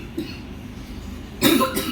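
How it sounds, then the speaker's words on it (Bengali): A single cough bursts out near the end after a quiet stretch of room tone, close and fairly loud, at home in a Bangladeshi village. "কাশিটা কমলো না এখনো।"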